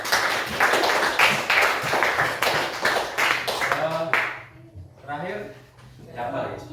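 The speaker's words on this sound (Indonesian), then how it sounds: "Tepuk tangan dulu buat Caca." A burst of many hands clapping together in a classroom for about four seconds, fairly loud and steady, then fading into quiet talk.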